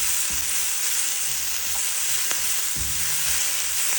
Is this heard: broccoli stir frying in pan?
yes